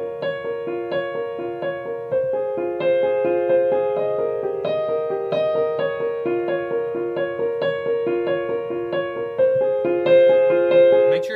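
Piano right hand arpeggiating chords in a smooth, continuous flow of rolling broken-chord notes. The sound is clear and close, steady in loudness over about eleven seconds, and no one speaks.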